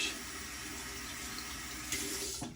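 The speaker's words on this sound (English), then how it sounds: "Let me wet my skull shaving brush." Tap water runs steadily at a sink to wet a skull-handled shaving brush, a close, continuous hissing stream that swells briefly near the end.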